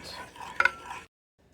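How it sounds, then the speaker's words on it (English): A homemade non-toxic deodorant mixture being stirred in a container, a soft scraping swirl with two sharper clinks midway, close and fairly quiet, stopping abruptly into near silence. "Just going to stir all of that. Make sure it's good and stirred."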